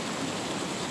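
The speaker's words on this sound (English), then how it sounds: "That's the falls that feeding through the Coniston water there." Waterfall on Yewdale Fells above Coniston Water, heard as a steady, broad rush of falling water, even and continuous throughout without any voices.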